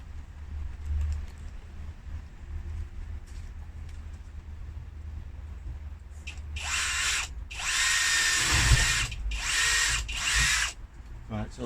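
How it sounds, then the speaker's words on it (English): A low background hum gives way to a power drill with a spade bit whining in several close, loud bursts, with short pauses between them as it bores through a wooden door. "put the tip of the spade bit through the hole that you just made, and then drill through"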